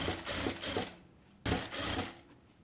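Sewing machine stitching elastic onto fabric for a girl's half pant, two short bursts of fast whirring stitching separated by a brief pause, close and fairly quiet, no talk.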